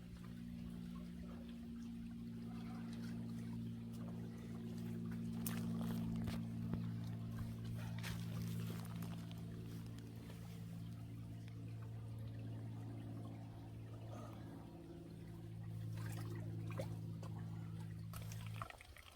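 Water pours steadily out of a filter bag on the Superior Hiking Trail, a quiet, continuous trickle running unbroken for the whole stretch.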